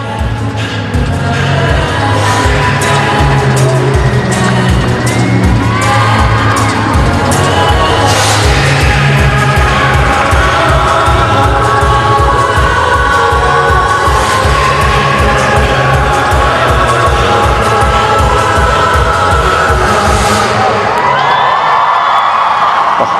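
Home crowd at the National Aquatic Centre cheering a synchronised swimming duet in the SEA Games 2017 free final, loud continuous cheers and whoops over rhythmic clapping and thumping music, swelling toward the end.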